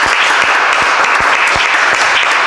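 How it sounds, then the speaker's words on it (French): A congregation at a Catholic Mass applauds loudly and steadily throughout, a dense, unbroken wash of clapping. "On applaudit tout le monde là."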